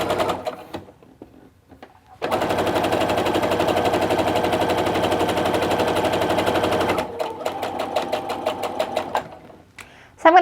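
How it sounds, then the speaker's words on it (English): Sewing machine chain stitching fabric blocks for a diamond fat-quarter quilt: a loud, steady, fast whirring run lasting several seconds, then a quieter stretch with a few short mechanical bursts and brief voices. "we're going to grab the other one and we're going to chain stitch these"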